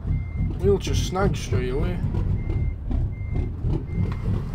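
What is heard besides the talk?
truck reversing beeps in American Truck Simulator video game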